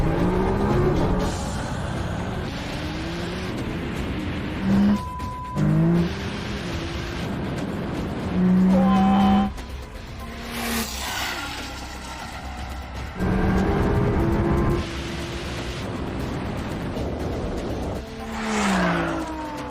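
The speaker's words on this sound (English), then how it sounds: "The McLaren is struggling to find traction. The wheels spinning as it fights to keep up." Three cars race: a 1600 hp Nissan GT-R, an Audi R8 and a McLaren 720S. Engines roar and rev in surges with shifting pitch, and tire noise and wheelspin come through without talk.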